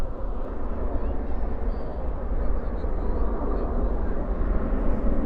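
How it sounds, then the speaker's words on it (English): An airliner begins its takeoff roll at DFW airport at night, heard as a steady, broad low-pitched roar that stays level throughout. "Departure's rolling."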